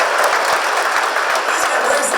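A church audience applauds and cheers in a steady, dense wash of clapping that fills the room and holds at a constant level from start to finish.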